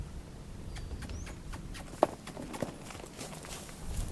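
A horse shifts its feet on the ground during rope groundwork, giving soft, irregular hoof thuds with one sharper knock, close and fairly quiet.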